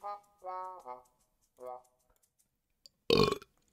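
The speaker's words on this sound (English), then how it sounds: "That's not the audio recording, that's me burping" A single loud, short burp comes right after a few seconds of casual talk and a pause.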